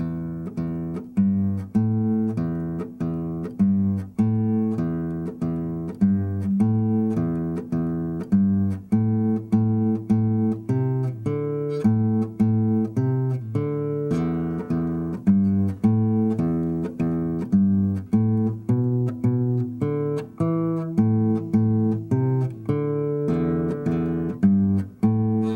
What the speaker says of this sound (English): We're going to play all of these notes with your thumb on your right hand, plucking the strings